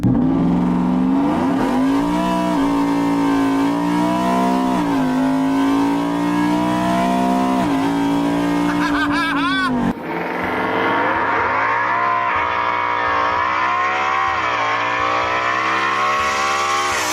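A car engine revs hard during a warm-up pull, its pitch climbing and falling over sustained loud acceleration, then dropping through a sudden downshift into a choppier, pulsing drone, with no talking.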